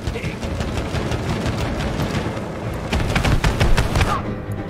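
It Takes Two co-op video game shooting, with rapid repeated gunfire bursts and popping impacts over a busy game soundtrack, with brief voices.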